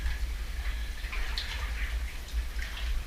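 Water trickles and drips inside Fridge Door Cave, faint scattered splashes and patters over a low steady rumble, quiet and close.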